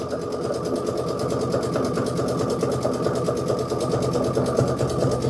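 An embroidery machine stitches continuously in a sewing room, a fast, even mechanical chatter with a steady hum that runs unbroken throughout at close range.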